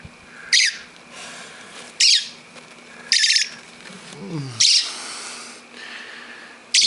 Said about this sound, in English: is a little bird that fell out of the tree in our yard